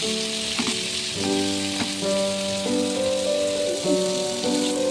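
Chicken tikka fries in a hot pan on a low gas flame, giving a steady close sizzle with scattered pops and a few clinks of a utensil on the pan, without speech.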